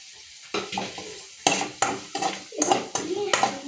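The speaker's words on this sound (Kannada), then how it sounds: "ಇವಾಗ ಸ್ವಲ್ಪ ಶುಂಠಿ ಬೆಳ್ಳುಳ್ಳಿ ಪೇಸ್ಟ್ ಹಾಕ್ತಿದ್ದೀನಿ ಮತ್ತು ಹಸಿಮೆಣ್ಸಿನ್ಕಾಯಿ ಹಾಕ್ತಿದ್ದೀನಿ" Pan clattering with a metal spoon stirring ginger garlic paste and green chillies, bursts of scraping and soft sizzle in uneven strokes, close and fairly loud.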